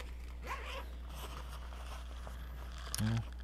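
A pencil case zipper is pulled open close up, a brief rasping zip near the end, after a stretch of quiet handling and low hum.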